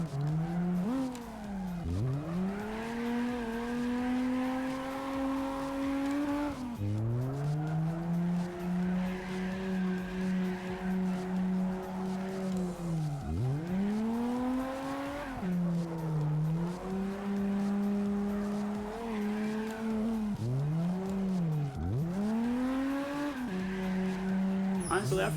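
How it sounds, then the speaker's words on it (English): A car drifts in the CarX racing game, its engine droning steadily with rising and falling pitch sweeps as it slides through corners, tire squeal mixed in, a player talking over it throughout. "this is such a perfect drift"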